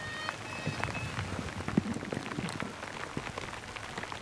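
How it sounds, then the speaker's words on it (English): Rain falling outdoors during a bikepacking ride, a steady dense patter of drops on surfaces with scattered louder splats, soft and even throughout. "Little rainy, little slick."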